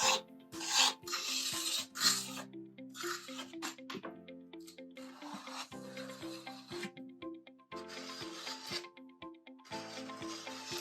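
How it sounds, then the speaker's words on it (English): Handheld scraper blades rasping old finish off grooved, curved wooden trim, repeated short scraping strokes in uneven bursts with brief pauses between, close and moderately quiet. "I switched to a different scraper and used a few different blades to get into all those grooves and curves."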